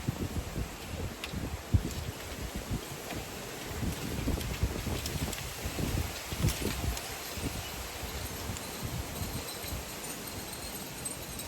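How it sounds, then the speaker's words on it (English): Wind gusts outdoors, buffeting the microphone with a steady rushing noise and irregular thumps over rustling, continuous for several seconds, no voices. "I love the wind."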